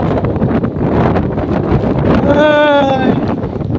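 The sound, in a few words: strong wind at a seaside fishing spot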